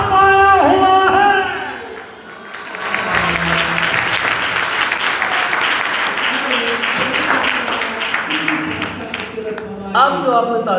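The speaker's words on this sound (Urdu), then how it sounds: "اب جو آپ نے تالیاں بجانی ہیں نا مسکراتے ہوئے بجانی" A congregation at a Sunday church meeting breaks into sustained, dense clapping that swells and holds for several seconds, with a voice speaking just before it and again as it fades.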